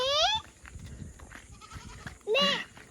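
A goat bleats twice in loud, wavering cries, one at the start and one near the end, with soft talk and movement in between.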